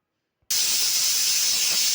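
After a brief silence, a loud sharp steam hiss bursts out and holds steady, a pressure cooker whistle blowing continuously while cooking pigeon peas with brinjal, tomato and tamarind.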